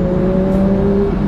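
A Porsche GT3 RS engine holds a loud, sustained, tonal note close by, a smooth steady drone with a faint dip in pitch toward the end.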